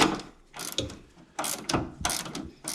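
A ratchet wrench tightening a bolt on a crash-damaged Camaro, several short bursts of clicking ratchet strokes close up with brief pauses between them.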